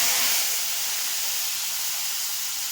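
Hot oil sizzling hard in a pan while cooking a green peas and potato dish, a loud bright hiss that flares at the start and then holds steady and close.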